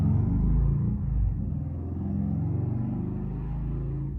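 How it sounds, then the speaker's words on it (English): Cars passing outside a room, a low muffled rumble that swells and fades under steady traffic noise, distant and indistinct. "If you guys can hear cars, I'm so sorry."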